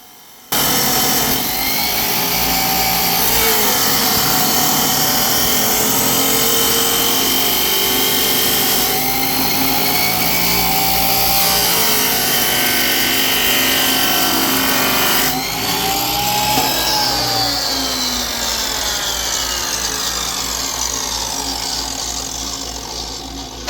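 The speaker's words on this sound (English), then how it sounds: "It's made of aluminum, so it wasn't hard cutting" A loud power tool cuts steadily through an aluminum truck bed cover for a 2021 Toyota Tundra, its high grinding whine shifting in pitch as the blade works, then tapering off near the end.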